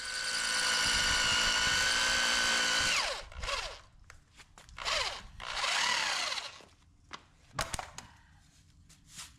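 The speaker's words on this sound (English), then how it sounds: "drilling holes in the garage floor" A power drill bores holes into a concrete garage floor during frame work on a 1950 Cadillac hearse, with a loud continuous whine at first, then shorter bursts broken by pauses and clattering.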